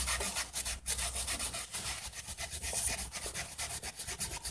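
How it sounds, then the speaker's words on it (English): Heavy sanding on a sewing machine part to remove a deep burr, a steady close-up rubbing and rasping texture with continuous back-and-forth strokes throughout, no voices. "No, sanding it heavily."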